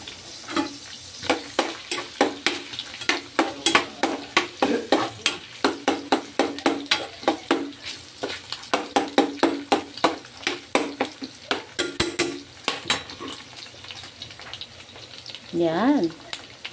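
Garlic sautés in oil in a pan for Filipino giniling, a steady close sizzle with rhythmic scraping and stirring throughout and a brief voice near the end.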